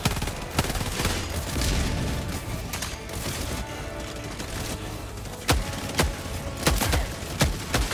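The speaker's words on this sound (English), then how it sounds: "I put a mortar down." Booming impacts and crackling gunfire from a Helldivers 2 battle, including a deployed mortar firing, with several sharp heavy thuds toward the end over a continuous dense roar of combat.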